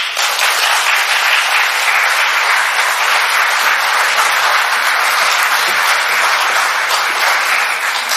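A large audience at the opening ceremony of a conference of Caribbean chief justices applauds Prime Minister Philip Davis, with dense, steady clapping that fills the hall at a loud, even level throughout, with no voices over it.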